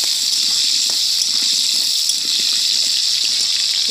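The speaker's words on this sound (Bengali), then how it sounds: "আলুগুলো একটু একটু ভাজা করে নেবো," Small potatoes fry in oil in a pan on a wood-fired clay stove, making a loud, steady hiss with light crackles and pops scattered underneath.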